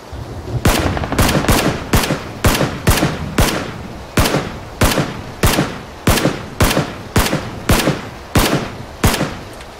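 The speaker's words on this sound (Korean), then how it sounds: "총소리 냈네" Rapid bursts of automatic gunfire from the battle royale video game PUBG: Battlegrounds, loud and near, with repeated sharp volleys firing in steady rhythm throughout and no talking.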